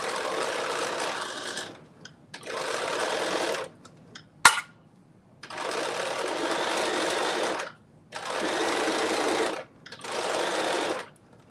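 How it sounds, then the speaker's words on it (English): A Bernina sewing machine stitches fabric in several bursts of steady whirring. A short mechanical clack falls in one pause, and the runs stop and start again at a similar speed. "Katie, what do I think about the Bernina sewing machine?"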